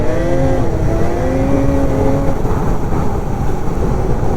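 A rebuilt 800 E-TEC snowmobile engine revs out on snow, a loud, close two-stroke whine rising through the first couple of seconds before settling into a rough, steady roar.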